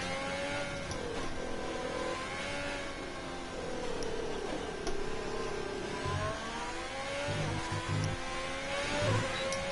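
Formula 1 car engine in the F1 2020 racing game, a steady high-pitched whine with rising and falling pitch sweeps as the car accelerates and shifts, continuous and fairly close with no talking.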